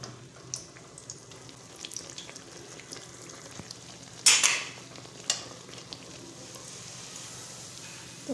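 A besan naan cooks in a pan over a medium flame, giving a soft, steady sizzle and crackle with occasional sharper pops and light scraping, heard alone at low volume.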